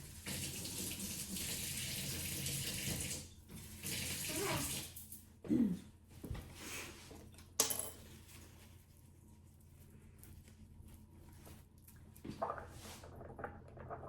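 Tap water runs into a kitchen sink as a measuring spoon is rinsed, with a steady splashing stream for several seconds, then stopping, followed by brief handling clatter and quieter drips.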